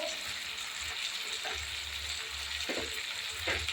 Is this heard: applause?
no